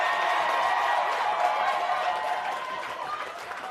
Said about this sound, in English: As the Baracarians welcome you with a round of applause.